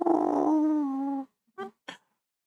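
A husky howls nearby in one sustained, wavering tone that lasts just over a second, followed by two short whimpering yips, with no talking over it.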